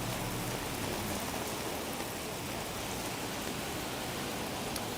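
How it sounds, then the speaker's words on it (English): Heavy rain pours down on an Osaka city street in a dense, even hiss of countless drops striking surfaces, steady and enveloping for several seconds with no voices. "This is some crazy rain."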